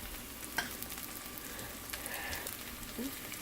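Chopped fresh ginger frying in a pan for pav bhaji, a soft continuous sizzle with light stirring clicks, quiet and close, with no one talking.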